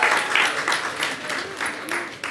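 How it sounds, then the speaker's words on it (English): A crowd at a Guyana Republic Golden Jubilee celebration in New York gives a round of applause, loud, dense clapping that rises and falls in waves, close and filling the room without speech over it. "Let's give her a round of applause to thank her for all she has done."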